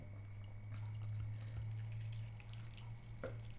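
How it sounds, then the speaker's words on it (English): Water is poured through a chickpea sprouting greenhouse, a quiet steady trickle and splash with a low hum underneath and a few small drips, no voices. "pour water through the greenhouse, which I'm going to do now"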